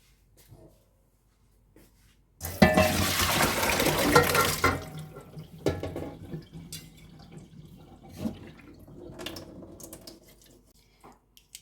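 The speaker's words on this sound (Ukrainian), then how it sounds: "А тепер зливатиму на друшляк" Cold water pours through a colander off blanched cauliflower in a home kitchen: a loud two-second gush of splashing water, then softer trickling and scattered drips as it drains.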